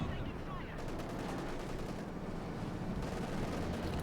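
Gunfire and cannon bursts from a T-34 tank in the Company of Heroes 2 strategy game sound as dense, continuous battle noise, with rattling shots and booms layered together throughout at a steady loudness.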